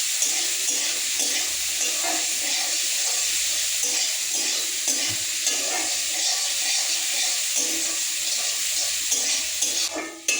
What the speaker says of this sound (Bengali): এবার পেঁয়াজটা একটু লাল লাল করে ভাজা হয়ে গেছে